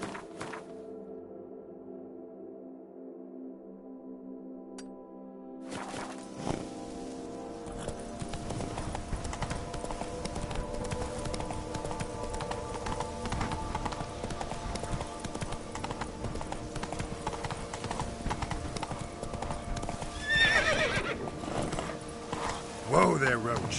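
Roach, a horse in The Witcher 3 video game, trots with a steady clip-clop of hooves after a quiet opening, a neigh rising near the end, under game music and a voice.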